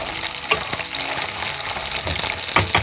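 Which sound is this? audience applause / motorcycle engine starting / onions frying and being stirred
onions frying and being stirred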